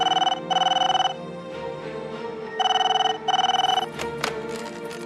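An old-style telephone rings in two bursts of trilling double rings, loud and close, separated by a short pause, with a faint background hum and a couple of clicks afterward.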